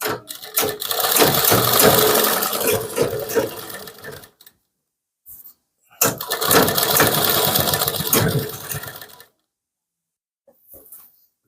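Two loud bursts of a sewing machine stitching along the buckram-lined neckline of a kurti, each run lasting a few seconds and separated by silence.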